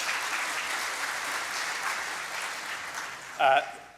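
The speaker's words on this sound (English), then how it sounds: "thank you for that round of applause" Steady applause from a political party conference audience fills the room for several seconds, fading slightly before a brief voice cuts in near the end.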